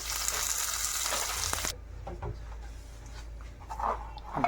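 Mustard seeds and curry leaves sizzle in hot oil in a pan while making bendekayi (okra) masala, starting as a loud, dense hiss that suddenly drops to quieter crackles and pops with a few scattered bursts.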